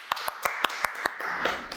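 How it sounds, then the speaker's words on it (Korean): Audience clapping to welcome a guest on a talk show, a short run of distinct claps at an even pace, fairly close and moderately loud, with no talk over it. "박수!"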